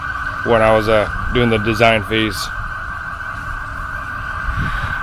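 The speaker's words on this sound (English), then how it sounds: "that alarm's been going off all morning" An alarm rings outside as a faint, steady electronic tone that runs continuously under someone talking close by.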